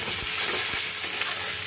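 Onions and tomatoes with salt and turmeric sizzle in a pan while being stirred, with a constant frying hiss and a couple of scraping strokes close up.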